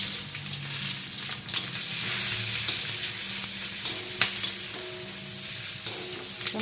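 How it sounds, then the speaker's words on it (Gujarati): Flour-stuffed green chillies fry in a pan with fenugreek and mustard seeds, crackling in a steady close sizzle with occasional spoon stirs and pops, alone with no talking. "સંભારિયા મરચાં થઈ રહ્યા છે લોટવાળા"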